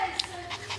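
A dog gives soft, brief whimpers and panting breaths at close range during a pause after play indoors, with faint household background.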